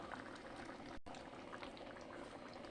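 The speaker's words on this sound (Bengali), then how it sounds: "আর একটু ফুটিয়ে নেব" Curry with fried eggplant and a sprinkle of garam masala bubbles in a pan, a soft, continuous simmering burble heard up close and alone.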